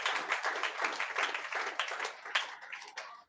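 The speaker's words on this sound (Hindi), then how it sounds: "जोरदार ताली बजाकर धन्यवाद दो प्रभु को" A congregation claps loudly and steadily together at a Friday prayer meeting, a dense, even wash of many hands that carries on for several seconds before tailing off.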